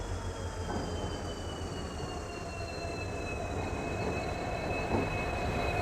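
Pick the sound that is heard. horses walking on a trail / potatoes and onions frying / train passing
train passing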